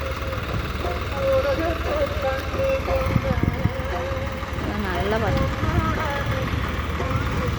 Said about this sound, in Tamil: இந்த ப்ளூ டிராக்டர் வந்து திரும்பி இப்போ ரெட் டிராக்டர் வருது